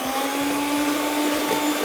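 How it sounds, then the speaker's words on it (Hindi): An electric mixer beats butter and icing sugar for a chocolate cake batter, giving a steady, loud motor whine with a strong constant pitch that runs unbroken throughout, close by with no talking. "पहले आपने मक्खन और आइसिंग शुगर को खूब अच्छी तरीके से फेंटना है"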